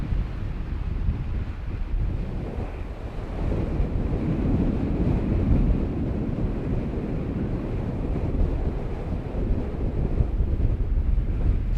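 Strong wind on an open slope during RC glider flying, a steady loud rushing roar buffeting the microphone with no pauses.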